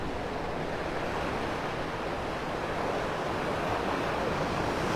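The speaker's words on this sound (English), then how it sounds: "Look at those waves." Ocean waves on a Gulf beach at Vanderbilt Beach in North Naples, Florida, a steady broadband surf wash with wind buffeting the microphone, continuous and fairly loud, no voices.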